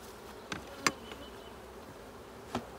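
Bees buzzing at a hive during a colony split, with foragers and new bees out front. A faint background hum is broken by a few brief, louder buzzes as individual bees pass close by.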